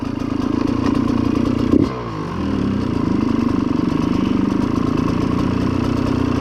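A Yamaha YZ motorcycle engine with a gearbox damaged in a fall runs steadily and loudly nearby; a single sharp clunk as first gear is engaged briefly dips the engine note before it settles back to a steady idle.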